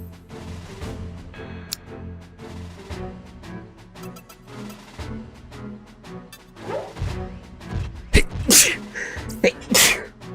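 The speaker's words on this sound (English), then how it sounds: "Oh, I sneezed." A sharp, loud sneeze bursts out near the end, with a second burst just after, standing clearly above the quieter background sound of a VTuber streaming Front Mission 4.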